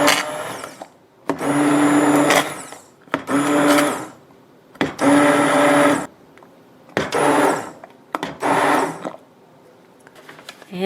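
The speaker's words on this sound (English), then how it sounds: "I'm gonna turn that off for a second while I get my immersion blender going here" Immersion blender puréeing peaches for jam, running in about five loud bursts of a few seconds each, with short pauses between them.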